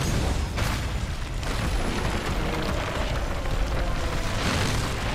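A Dragonator cannon firing in Monster Hunter World, a sustained heavy booming blast with rumbling low end filling the scene, loud and continuous for several seconds.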